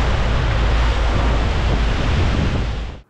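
Thunderous roar of Niagara Falls from close aboard a cruise boat, a dense, steady wall of rushing water and spray with wind buffeting, loud and continuous before cutting off at the end.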